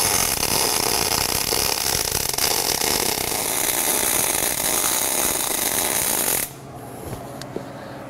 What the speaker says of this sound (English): we're just going to throw down a full bead all the way across the plate